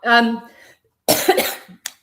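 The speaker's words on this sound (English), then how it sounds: "I'm getting so excited, I'm going to cough." A voice hums or speaks briefly, then a loud, close cough bursts out, followed by a short throat sound.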